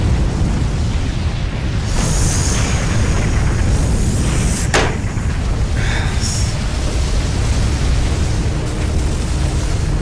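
Explosions as a base is destroyed in the video game Ape Escape Million Monkeys, loud dense rumbling blasts with a sharp crack near the middle, continuous over a noisy backdrop of game sound.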